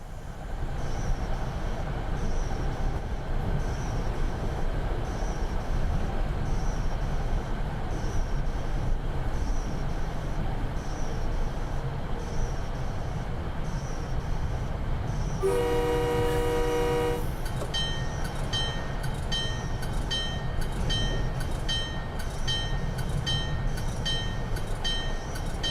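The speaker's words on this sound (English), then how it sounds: "I'm just going to pop on a bit of brakes" An MBTA Boston commuter train rolls steadily with the brakes applied. A constant low rumble runs throughout, a sustained horn-like tone sounds midway, and then a series of regular, evenly spaced high pulses follows.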